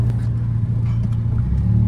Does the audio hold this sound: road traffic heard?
yes